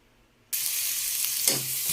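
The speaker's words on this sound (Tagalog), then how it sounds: "Magigisa na po tayo." Garlic and onion hit hot oil in a pan previously used for frying ham, bursting into a loud, steady close sizzle after a brief silence, with a small clink of stirring partway through.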